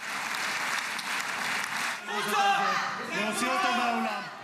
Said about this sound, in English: stopped repeatedly with applause